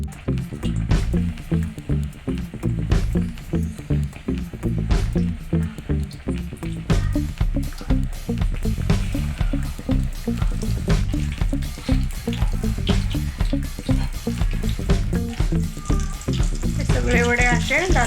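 Potato vada fritters fry in hot oil, giving a loud, continuous crackling sizzle with bubbly pops throughout while someone talks over it.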